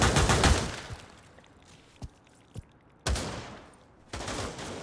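Powerful rifle fire in a VR shooter played with a bHaptics haptic suit: a rapid loud burst of shots, a couple of isolated single cracks, then two more close bursts, with quiet gaps between.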